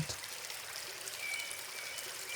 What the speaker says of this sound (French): Bercé par le son mélodieux de l'eau qui passe